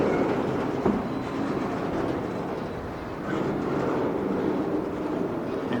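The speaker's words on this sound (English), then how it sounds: "This train's about, it's a good 2 miles long." A very long freight train crawls slowly past a railroad crossing, its wagons producing a steady, loud rumble and faint rhythmic clatter close by, with no break and no talking.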